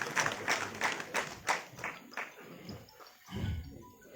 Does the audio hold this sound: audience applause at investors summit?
yes